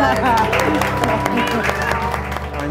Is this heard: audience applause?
yes